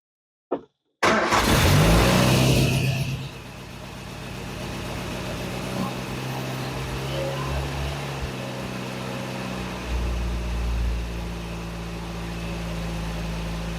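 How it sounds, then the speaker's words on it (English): An Austin-Healey Frogeye Sprite with choke pulled cranks briefly and catches, then settles into a steady low idle, close and continuous with a slight rev partway through. "I'm going to pull the choke out and see if we can get it started"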